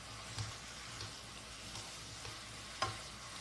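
Anchovies and nuts stir-fried in a pan with syrup: a faint, steady sizzle under soft stirring, with a couple of brief spatula scrapes standing out.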